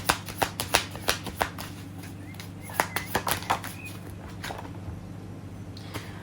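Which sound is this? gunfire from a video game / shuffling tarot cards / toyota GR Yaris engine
shuffling tarot cards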